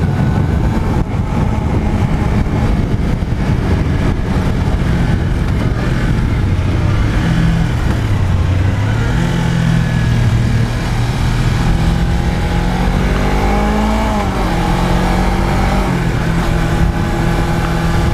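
A Suzuki GSX250R twin-cylinder motorcycle engine pulls hard and climbs in pitch through the gears, a steady, loud drone with rising then falling harmonics, heard up close with no talking.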